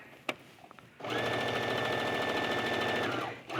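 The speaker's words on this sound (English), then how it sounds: "Do a little back stitch at the end and cut that." A sewing machine runs steadily for about two and a half seconds, stitching a burrito seam on fabric, loud and close with an even mechanical buzz, preceded by a few faint clicks.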